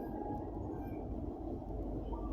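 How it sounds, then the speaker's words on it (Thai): Train 109 from Bangkok Apiwat to Chiang Mai pulling into Rangsit station, Thailand, a quiet, steady low rumble of rolling rail cars at a moderate distance. "109 นะครับ กำลังเข้าอยู่ครับ ขบวนที่ 109กรุงเทพอภิวัตเชียงใหม่นะครั"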